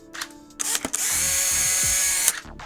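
A Polaroid SX-70 instant camera's motorized mechanism whirs steadily for over a second, bracketed by mechanical clicks and clacks, close and fairly loud.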